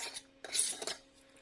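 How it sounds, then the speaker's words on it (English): Metal canning lids and rings set onto glass jars, a couple of light metallic clinks and scrapes close by, then quiet. "we're going to add our lids. And a couple of rings."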